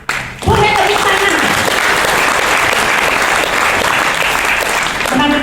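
An audience at a business seminar in Bandung bursts into loud, dense clapping right after a brief spoken phrase, sustained for several seconds before another voice returns at the end.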